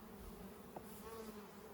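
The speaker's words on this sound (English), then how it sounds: "you just go and shake the bees out one frame by frame" Honey bees buzz as they are shaken off hive frames while honey is being pulled, a steady, fairly quiet hum with one brief knock partway through.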